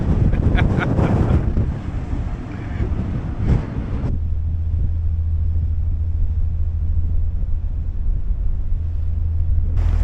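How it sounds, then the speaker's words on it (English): Strong wind buffets the microphone with rough, loud gusts aboard a ferry to Martha's Vineyard, then eases into a steady low rumble of wind and engine. "It's a little windy."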